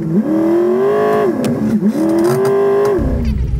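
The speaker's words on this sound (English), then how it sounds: "I'm sure can hear the car drops the cylinder" A 2011 Ford Mustang GT V8 engine with one cylinder disabled idles loudly up close with an uneven, lumpy note, its pitch rising and dipping slightly as it runs.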